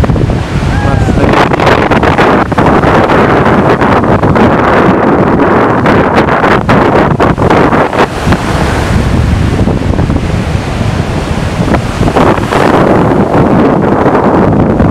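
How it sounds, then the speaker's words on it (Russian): Loud sea waves break and rush on the shore at Golubitskaya on the Sea of Azov, with heavy wind buffeting the microphone throughout. "Такие волны."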